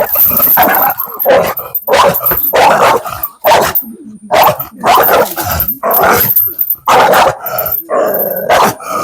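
A pit bull barks loudly and repeatedly at close range, a rapid series of deep, forceful barks with short pauses between bursts.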